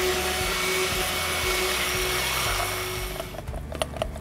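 An electric mixer blending soap batter with lye in a soap shop, a loud, continuous buzzing whir that runs steadily up close, then thins out near the end as a few light knocks come through.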